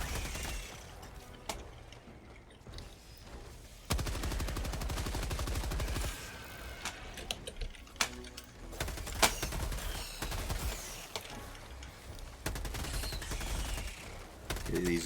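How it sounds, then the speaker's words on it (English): Sustained automatic gunfire from a machine gun in the video game Helldivers 2, loud and continuous bursts with brief pauses, layered with other weapon shots and game effects. "Switch back to the machine gun."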